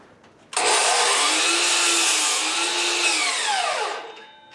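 A power saw whines loud and steady for about three seconds as it cuts a length of wood for chicken coop walls, then winds down as the blade slows.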